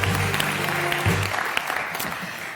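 Applause at an awards ceremony at a forum's closing plenary, a full round of clapping from the audience that starts loud and gradually thins out over the few seconds.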